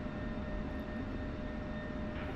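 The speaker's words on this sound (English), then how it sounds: "I see a F-15 taxiing behind me right now" F-15 jet taxiing at an airfield in the DCS World flight simulator: a steady, continuous jet engine whine and rumble, loud and close, with no talk over it.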